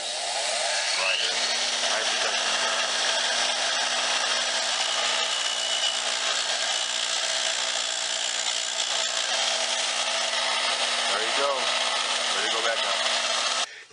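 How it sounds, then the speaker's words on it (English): Brass wire brush spinning on an angle grinder, scrubbing rust from a screw head on an old Singer sewing machine: a steady, continuous high whirring scrape held for the whole stretch, close and loud. "I've got a brass wire brush in my grinder"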